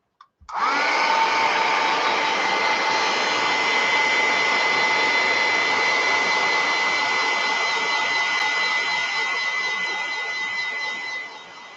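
A hair dryer blows steadily and loudly for about eleven seconds, drying glue on a mixed media art piece, with a constant airy whine that hardly changes after it switches on.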